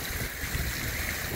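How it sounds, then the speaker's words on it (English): Steady wind roars and buffets across the microphone in Piatt Park, Cincinnati, Ohio, a dense, even rush of noise with no voices. "it is really windy out here today"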